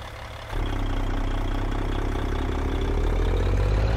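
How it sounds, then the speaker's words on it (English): Caterpillar C-10 truck engine idling in American Truck Simulator with a Z-Mods C3176A sound pack, kicking in after a brief quiet moment into a steady, close, low diesel rumble held throughout. "this is the Z-Mods C3176A sound effect, or engine and sound pack, but I've applied my own custom engine mod to it"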